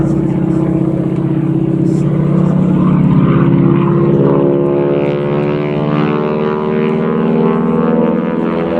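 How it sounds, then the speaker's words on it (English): An advanced trainer aircraft with a 600 horsepower propeller engine passes at an airshow, a loud, continuous droning roar that shifts in pitch as it goes by, with no talk over it. "Pretty powerful, that 600 horsepower engine."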